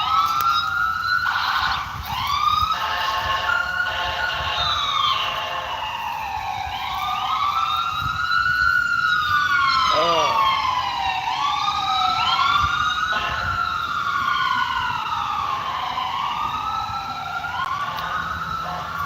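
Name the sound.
emergency vehicle sirens outside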